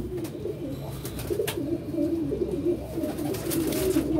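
Soft, low pigeon cooing rolls in repeated throaty phrases at close range, with faint background rustle and no talking.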